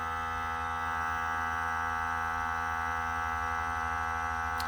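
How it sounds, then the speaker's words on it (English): A vacuum sealer runs while sealing a bag for a surf and turf meal, giving a steady, close electric hum with a faint pulsing throb that holds without a break. "we're in the vacuum sealer. It's going to take the moisture out"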